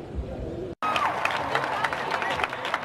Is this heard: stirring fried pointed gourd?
no